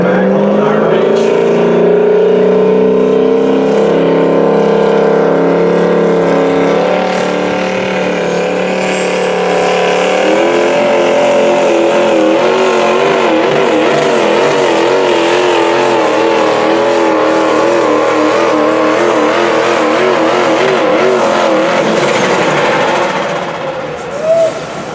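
Diesel pulling truck with a brand new motor roars loud and sustained during a truck pull at the Outlaw Diesel Super Series Ultimate Callout Challenge, its pitch wavering as it strains down the track before cutting off near the end.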